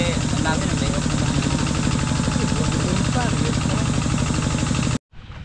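A diesel engine drives machinery at a fish pond, producing a loud, steady, throbbing mechanical drone for five seconds before it cuts off abruptly.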